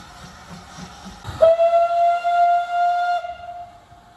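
Great Western Railway 2-6-2 steam locomotive on a heritage railway near Peterborough, with faint running rumble and then a loud, steady whistle blast of about two seconds that trails off, and no voices.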